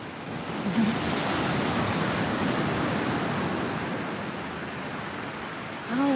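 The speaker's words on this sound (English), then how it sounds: "Oh yeah, we definitely got us some waves today." Ocean waves break at the beach in a continuous, broad wash of surf with wind rumble, steady and fairly loud, with a brief bump of wind or handling noise at the very end.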